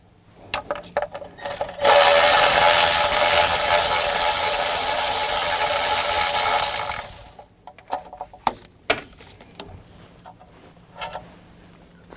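A power ratchet or air tool spins out a bolt holding the ECM on a Cummins ISB engine in a school bus, a loud steady whir of about five seconds, surrounded by quieter clicks and handling noises.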